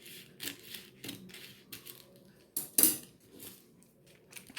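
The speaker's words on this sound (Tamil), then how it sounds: "சைடில் இருக்கிற எக்ஸ்ட்ரா கிளாத்தை கட் பண்ணி எடுத்துடலாம்" Scissors snipping through extra cloth at a tailoring table while trimming inner wear pieces: a series of short, crisp cuts and rustles at an uneven pace, one louder snip near the end, close and quiet, with no talking.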